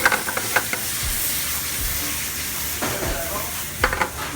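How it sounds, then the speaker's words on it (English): Aromatics sizzle and start to brown in a hot pan as the base for a bechamel sauce, with a steady frying hiss and occasional stirring scrapes throughout, close and clear. "See how our aromatics are starting to brown there?"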